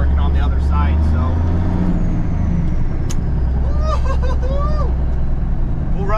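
A 1983 cabover truck with a mechanical Cummins 350 diesel drives down the road, its engine droning loud and steady throughout as cab rattles and a brief air hiss rise over it.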